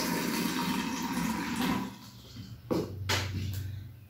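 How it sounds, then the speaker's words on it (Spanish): Water pours into an empty bottle, first as a steady rushing stream, then as a few short splashing gurgles and bursts, heard nearby with no speech. "necesitamos una botella vacía en donde vamos a colocar un volumen de agua"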